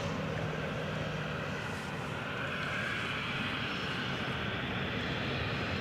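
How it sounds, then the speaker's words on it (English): A propeller aircraft's engine at Edinburgh Airport makes a steady, loud, unbroken droning roar that holds at one level from start to finish, with no voices over it. "Got the propeller."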